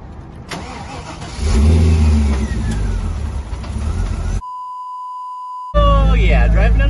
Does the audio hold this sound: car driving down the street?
yes